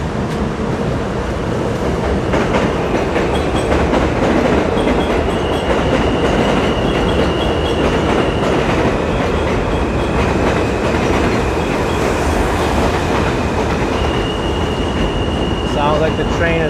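A commuter train in Midtown Manhattan rumbles steadily close by, wheels clattering on the rails, with a thin high squeal of braking wheels appearing near the end as it slows.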